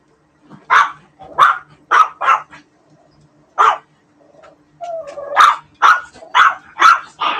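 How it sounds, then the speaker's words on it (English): A dog barks loudly and close by, about a dozen sharp barks in uneven bursts with short gaps, over a faint steady background hum. "Dog."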